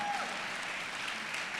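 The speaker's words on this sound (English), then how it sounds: "Applause, please, for her." An audience at a conference talk breaks into applause for a speaker, a continuous wash of clapping from many hands at even volume throughout.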